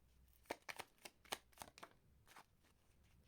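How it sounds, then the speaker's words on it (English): A deck of tarot cards being shuffled, about a dozen crisp, separate riffles and slaps in an uneven rhythm, close and moderately quiet, with no voices. "Last shuffle."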